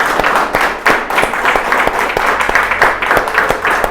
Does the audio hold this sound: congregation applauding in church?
yes